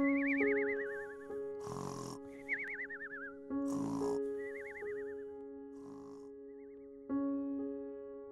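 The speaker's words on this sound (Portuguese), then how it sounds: "ele começou a roncar, tá roncando alto pra caramba" An old man snoring loudly during a tabletop RPG session: a few exaggerated, rasping snores come in separate bursts, with wavering whistle-like tones between them, fairly quiet overall and with no talking.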